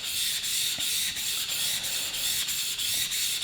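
A steel wood chisel rubbed back and forth on a flat sharpening stone, a steady gritty scraping hiss with regular stroke pulses about every half second, close and continuous with no talk.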